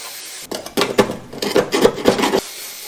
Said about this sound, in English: got the firewall cleaned up with a wire brush drill